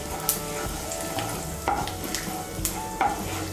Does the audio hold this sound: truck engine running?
no